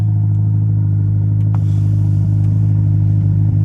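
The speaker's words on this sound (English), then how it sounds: "That's your lovely cold start." A Ferrari Roma engine idles loud and deep right after a cold start, a heavy steady rumble with a brief click partway through.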